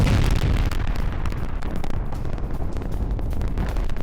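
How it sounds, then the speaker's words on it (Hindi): A gas explosion in Iran in news footage, a loud, deep rumbling boom with a sustained roar and crackling bursts, no speech. "आप देखिए ईरान में अपने आप गैस एक्सप्लोजन हो रहे हैं।"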